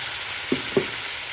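Mince beef sizzles in oil in a pot, a steady loud frying hiss punctuated by two soft knocks of the stirring spoon, no voices.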